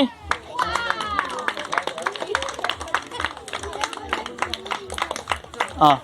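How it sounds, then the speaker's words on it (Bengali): An audience claps at a Christmas celebration in Bankra Dober, West Bengal, India, with sharp irregular hand claps close by under continual speech. "হাততালি।"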